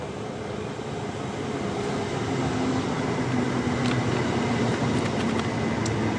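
A train bound for London Bridge pulls into a station on the Tonbridge to Redhill branch line, a steady broad rumble of wheels and motors with faint high squeals from the rails, close and continuous with no talk.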